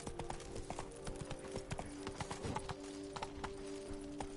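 Geralt's horse Roach galloping in The Witcher 3, a quick, steady clip-clop of hooves under a droning game soundtrack, fairly quiet overall.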